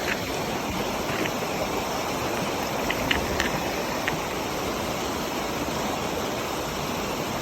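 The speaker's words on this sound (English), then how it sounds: "Let me get this thing rinsed off." Running water rinses off a dug-up find after metal detecting, making a steady, broad rushing splash with a few faint clinks and no voices.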